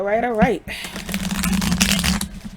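A deck of tarot cards is riffled and shuffled close up, a quick flurry of papery flicks that follows a brief spoken voice.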